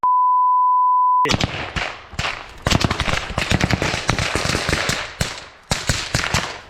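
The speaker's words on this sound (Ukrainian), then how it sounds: "Отстрілюється!" A steady electronic beep tone gives way to close, loud gunfire as soldiers fire back during combat on the Bakhmut front, with rapid irregular bursts and single sharp cracks echoing one after another.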